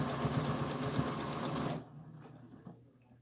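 A sewing machine hums steadily close by as it stitches an American Girl doll dress, then stops abruptly partway through, leaving faint handling noises.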